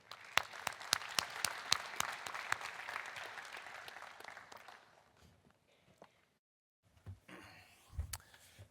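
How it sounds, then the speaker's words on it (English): Audience applause at a space and defense conference in Israel, dense clapping loud at first, thinning and fading out, followed by a few scattered footsteps and shuffles. "Please give him a big round of applause."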